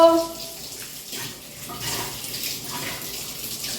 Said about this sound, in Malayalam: ഇത് ഇങ്ങനെ നല്ലപോലെ ഒന്ന് കുലുക്കി കുലുക്കി കഴുകി കഴിഞ്ഞാൽ അതിൻ്റെ ഉള്ളിലുള്ള അഴുക്ക് ഫുള്ളാ പൊയ്ക്കോളും